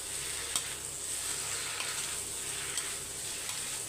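Potato masala, made without onion or garlic, fries in oil with a steady, moderately loud sizzle and occasional sharp clicks from stirring.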